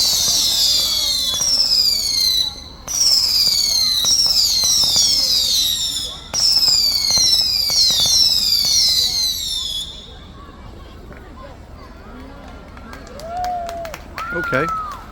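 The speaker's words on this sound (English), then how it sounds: "4th of July fireworks. Oh wow, these are going quite high." A 4th of July fireworks display sends up rounds of shrill, descending whistling rockets in loud bursts, each volley stopping abruptly, before a quieter stretch with a few scattered pops and faint background voices.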